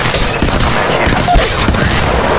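Dense, loud gunfire from Apex Legends, a continuous fusillade of overlapping automatic shots and impacts filling the whole stretch with no pause.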